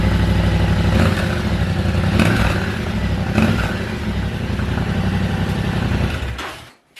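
A Yamaha Tenere 700 motorcycle ridden on a county road, its engine droning loudly and steadily up close, then rolling to a stop on arrival as the sound cuts off at the end.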